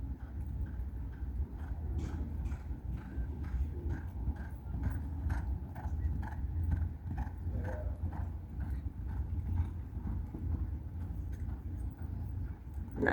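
Racehorses exercising at Caymanas Park make a steady, rhythmic clip-clop of hooves that continues throughout, moderately close over a low background rumble, with no speech.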